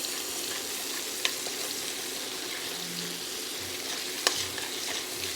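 Onions frying in a pan for a chicken piccata sauce, a steady soft sizzle with faint stirring clicks at moderate level.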